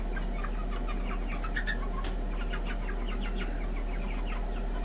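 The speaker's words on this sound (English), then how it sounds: "They're already pecking away at their food back there." Young roosters raised indoors cluck softly over their food, a string of faint, repeated clucks against a steady background hum.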